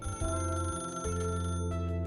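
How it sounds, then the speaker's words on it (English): A telephone rings in a voice-acted Arknights story scene, a repeated electronic trill with steady pulsing tones, fairly loud and close, ending abruptly near the close. "the phone rings"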